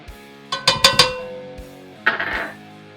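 A spoon clinks against a pot while black pepper, ground mustard and smoked paprika are mixed in for smoked mac and cheese, giving a quick run of close metallic taps followed by a scraping stir.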